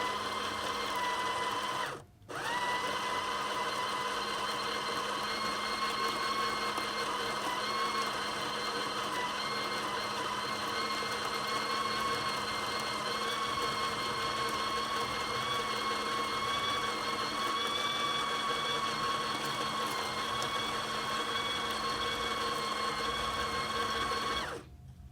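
Breville Smart Grinder grinding coffee beans: a steady, high-pitched motor whine with a dense burr-grinding rasp, briefly cut near the start, then running continuously and loudly for over twenty seconds without talk.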